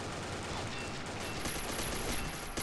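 Gunfire from the online shooter Combat Arms, a steady dense burst of rapid shots rattling continuously for a couple of seconds at moderate, somewhat muffled level with no talking.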